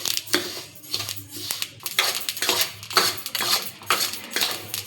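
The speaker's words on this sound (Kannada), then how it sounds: "ಇದನ್ನು ಹುರಿಬೇಕು. ಎಳ್ಳು ಹುರ್ಕೊಳ್ಳೋಂಬರ್ರಿ 2 ಸಲ ಸ್ವಲ್ಪ ಹಾಕಿ." Sesame seeds being roasted in a pan, a run of repeated metallic scraping and rattling strokes at a moderate pace, close by, with no talking.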